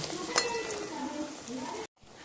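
Lentil dumplings (bori) fry in hot white oil with a steady close sizzle and crackle, broken by a brief silence near the end before the frying resumes.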